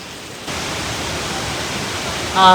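A waterfall on a trekking trail near Nuwara Eliya, Sri Lanka, rushing as a steady, close broadband roar that swells after a moment and holds, with a brief voice-like sound near the end.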